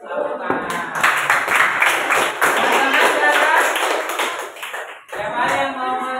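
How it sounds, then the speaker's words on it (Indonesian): A burst of clapping from a class group, dense and steady for several seconds, briefly dipping before resuming. "Tepuk tangan."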